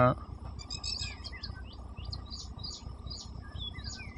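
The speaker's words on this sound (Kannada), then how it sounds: "ಇಲ್ಲಿ ಪಕ್ಷಿ ಕೂಡ ಸೌಂಡ್ ಇರ್ಬೋದು ನಾನಾ ನಮ್ಮ ಪಕ್ಷಿಗಳ ಒಂದು ಇಂಚರ" Small birds chirp and tweet in quick, high repeated calls over a steady low background hum, fairly faint and moderately distant, with a brief burst of noise at the very start and no talk.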